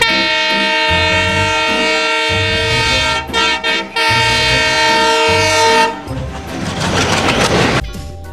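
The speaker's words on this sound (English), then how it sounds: "T for train." A train rolls past with repeated horn toots and steady rail rumble, loud and close, ending in a noisy whoosh of passing cars, set over a children's alphabet song backing.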